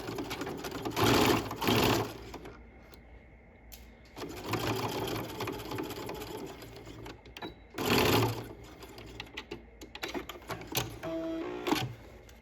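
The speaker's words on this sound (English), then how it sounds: "I'm going to go down that short side, again at that 1/4 inch seam allowance" A sewing machine runs a straight stitch down the short side of a waistband at a 1/4 inch seam allowance, in several close bursts separated by brief pauses.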